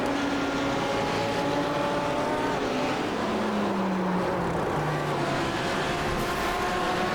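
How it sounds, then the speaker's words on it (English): GT3 race cars on the Daytona circuit in the iRacing sim, a steady engine drone with gliding pitch as cars slide and crash, continuous from start to end with no talk. "As we hear a car in the background sliding and crashing,"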